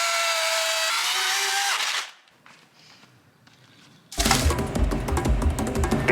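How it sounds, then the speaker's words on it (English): A chainsaw cutting through downed trees on a remote Idaho backcountry road: a loud, steady motor whine for about two seconds, a quiet pause, then a harsh, roaring burst that runs to the end. "I think I'm gonna need the chainsaw again."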